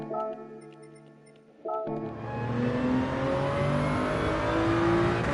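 A race car engine in the Gran Turismo video game revs steadily, then cuts briefly near two seconds before roaring back, climbing loud and continuous through the gears on the Dragon Trail circuit.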